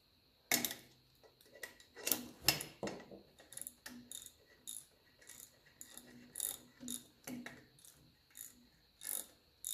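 Ratchet socket turning as nuts are run onto the exhaust manifold studs of a 1954 Ferguson 20 TEF diesel tractor, with quick bursts of close clicking separated by short pauses, quiet and without speech.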